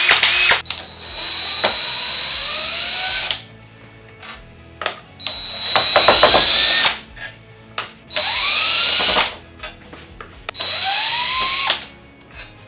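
A power drill whirs in several bursts of a few seconds each, spinning up and winding down in reverse to unscrew screws from a thrift store chair, with brief pauses and small clicks between runs.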